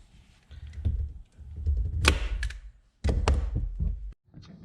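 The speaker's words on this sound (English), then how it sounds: "take my staple gun." A staple gun fastens interior trim in a Honda S2000 during a subwoofer install. A few sharp, close snaps ring out amid handling rustle and thumps.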